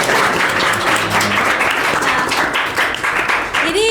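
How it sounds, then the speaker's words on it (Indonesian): An audience at an organization talk event applauds, a loud, sustained wash of clapping that carries on throughout, with a voice speaking over it. "Dan beri tepuk tangan dulu untuk Kak Fahrul ya."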